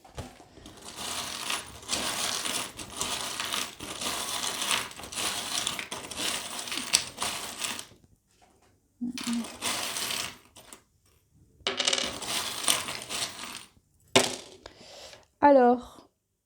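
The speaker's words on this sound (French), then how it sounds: "on va prendre les breloques." Small divination charms are shaken and dropped during a tarot-style astrology reading, making several bursts of dense clinking rattle separated by short pauses, with a brief voice near the end.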